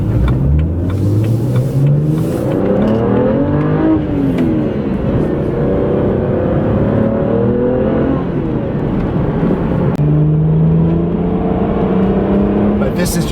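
BMW 1M coupe pulling hard on back roads, engine note rising through the gears in repeated climbing sweeps, with a brief drop between shifts before it revs up again, loud and close.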